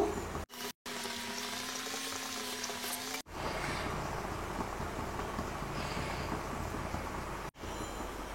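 Egg masala curry simmering in a pan on a low to medium flame, a steady close bubbling and sizzling hiss with brief cuts and no talking.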